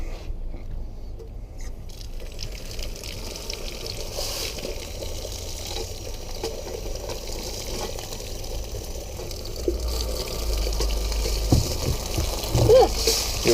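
Running water rinsing metal-detected coins after tumbling, a steady splashing stream close by that grows heavier near the end, with brief talk over it.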